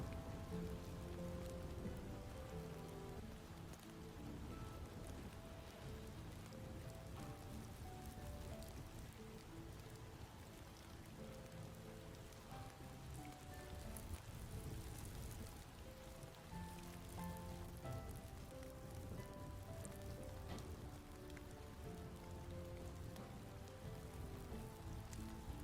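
Rain falls on leaves in a forest, a soft, dense, steady patter of drops that continues evenly throughout without any voices.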